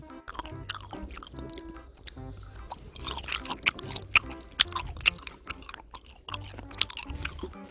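Close, wet crunchy chewing of grilled pork skin, with repeated bites and squishy mastication in an uneven rhythm, loud and up front with no talking.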